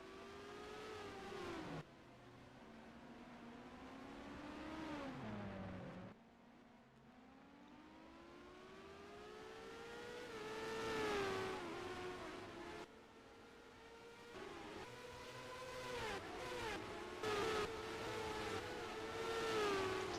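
IndyCar race cars at the St. Petersburg Grand Prix street race, a high-pitched engine whine rising and falling through gear shifts as cars pass in sequence, with a commentator talking over the steady roar.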